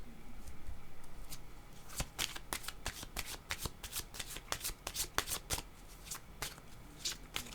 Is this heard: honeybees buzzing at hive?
no